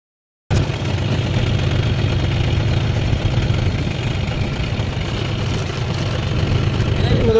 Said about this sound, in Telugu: ఈ విధంగా ట్రాక్టర్లు దిగబడతాయి, అట్లుంటుంది రైతుల పరిస్థితి